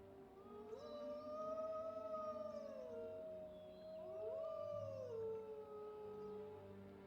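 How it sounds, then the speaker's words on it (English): Wolves howl in Empire Total War, long rising and falling tonal calls overlapping in two drawn-out waves, clear against a quiet background. "The wolves howl."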